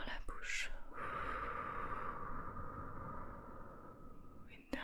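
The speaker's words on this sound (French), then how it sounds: "Expire par la bouche." A long, soft exhale through the mouth during guided relaxation, close and breathy. It follows a brief intake and fades over several seconds.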